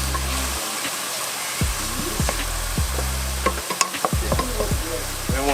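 Searing and sautéing in a pan while making pork adobo, a loud, close, continuous sizzle broken by several quick scraping stirs and light clinks of a utensil, no voices.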